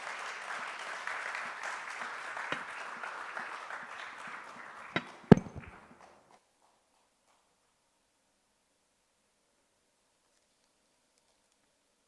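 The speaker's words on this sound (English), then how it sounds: "Please give a round of applause to Nigeria." Audience applause at a business conference in Nairobi, moderately loud and steady, ends abruptly with a couple of sharp claps around five seconds before silence.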